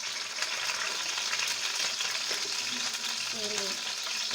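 Chili frying in hot olive oil in a pan, a steady close sizzle that crackles without a break, with faint voices murmuring underneath.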